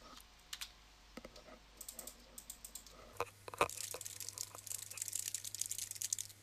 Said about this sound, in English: type in the answer here